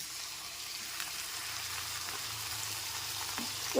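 Spices and vegetables sautéing in a pan for dalia khichuri with a little water added, a soft continuous sizzle with faint crackles and stirring, quiet and unaccompanied by talk.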